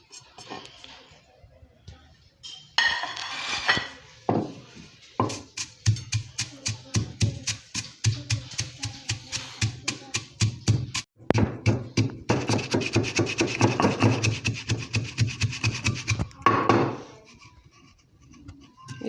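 Anardana and dry coriander being hand-ground for tamarind chutney, fast rhythmic pounding and grinding strokes in close, regular bursts, with brief pauses between runs and no talking.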